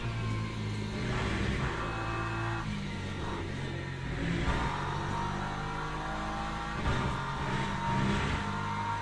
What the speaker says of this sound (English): there comes the LMP3 coming through